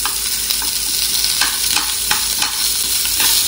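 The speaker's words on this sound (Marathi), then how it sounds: "कांदा आणि आलं लसूण सगळं सोबतच घालते मी, म्हणजे सोबतच परतल्या जाईल" Onion, ginger and garlic are stir-fried together in a pan over low flame, giving a loud, close sizzle with regular spatula scrapes every half second or so, and nobody speaking.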